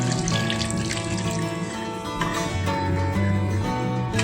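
Water pours steadily into a pan of Odia-style fish curry with potatoes, a continuous close splashing stream with no talk.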